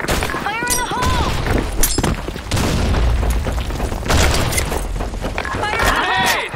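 Grenade explosions and loud battle noise in the video game Broken City, with repeated booms and crashing bursts through the clip, mixed with shouted voices and chirping effects.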